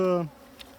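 A dense buzz from a drone-laying honeybee hive with a laying worker drones steadily for a moment, then cuts off abruptly, leaving a quiet, faint background.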